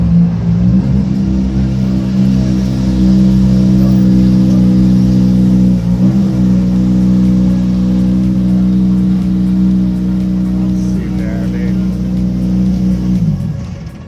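A Subaru rally car with a bubble bonnet idles and revs nearby, its loud, steady engine drone holding for several seconds before fading as it drives off.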